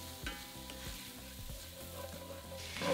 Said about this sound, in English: Then stir and cook for another two to three minutes until those spices start to release their fragrance